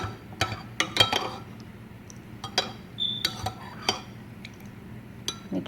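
A spoon clinks against a cup while stirring mint tea sweetened with lemon and honey, giving several sharp, close metallic taps in an irregular rhythm over a quiet background.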